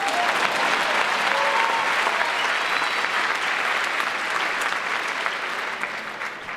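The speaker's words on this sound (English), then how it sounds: "It's okay to clap." Sustained applause from a high school ceremony audience fills the room at Palo Alto High School, loud and steady clapping from many hands that fades slightly toward the end.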